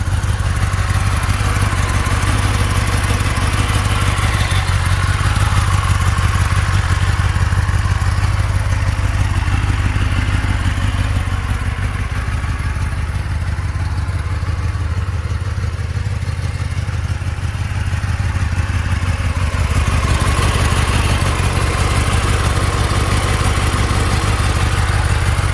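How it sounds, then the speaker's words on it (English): A stock 2024 Kawasaki Ninja ZX-10R with 611 miles idles nearby, a steady, throbbing engine rumble that holds loud and constant throughout with no talk over it. "Let's hear it. LD motor, yeah, that's what it sounds like in stock."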